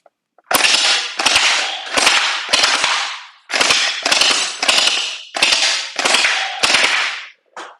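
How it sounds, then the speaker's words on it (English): Splatrball SRB1200 gel ball blaster fitted with a T238.net RGB tracer firing about ten loud, close bursts of rapid snapping shots, each burst lasting roughly half a second with short pauses between. "I'm going to go ahead and shoot it a little bit and show you how it works."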